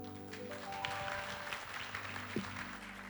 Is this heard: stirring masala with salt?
no